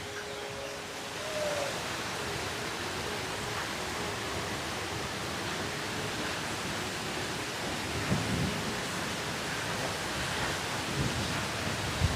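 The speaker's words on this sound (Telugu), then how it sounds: "ఉరుములు ఉరిమేటప్పుడు అర్జున మంత్రం చదివితే పిడుగులు పడవంటండి" Thunderstorm with heavy rain over a house garden during the festive season: a dense, steady roar of rainfall with low rumbling thunder underneath and a couple of brief louder thumps near the end.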